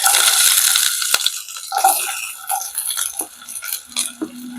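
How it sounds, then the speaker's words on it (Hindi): Chopped onions go into a hot pan for Pahadi-style horse gram dal and are stirred, starting with a sharp sizzle that fades into scraping and clinking of a spoon against the pan, with no talking. "तो ये मैंने प्याज डाले"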